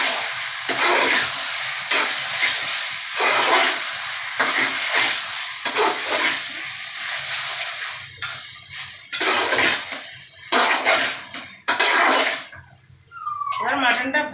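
Yogurt-marinated mutton goes into a hot pan for kosha and sizzles, with repeated clanks of a spoon against the pot in bursts and a hissing fry underneath, close and fairly loud.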